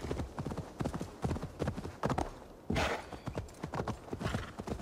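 Hoofbeats of a horse in Assassin's Creed Valhalla, a steady clip-clop rhythm of sharp thuds, close and clear, with a brief burst of rustling midway and no voices.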